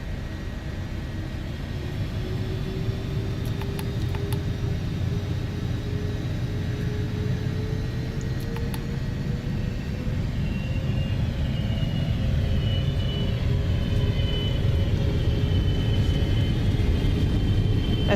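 Gulfstream 550 business jet engines spooling up on the takeoff roll in the X-Plane flight simulator, a steady loud roar with a rising whine that climbs gradually over the run, heard alone.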